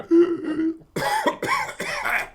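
A short vocal sound followed by three harsh, rasping coughs in quick succession, close and fairly loud.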